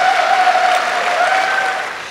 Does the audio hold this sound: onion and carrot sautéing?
no